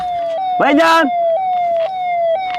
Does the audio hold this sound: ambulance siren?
yes